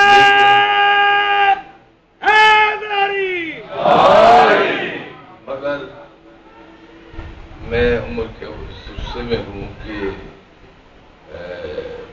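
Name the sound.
crowd chanting a religious slogan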